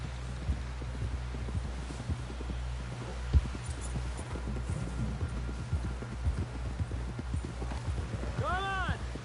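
Horse hooves clip-clop in steady rhythm in Red Dead Redemption 2, close and fairly loud over a low rumble, with voices talking over them and a brief whinny near the end.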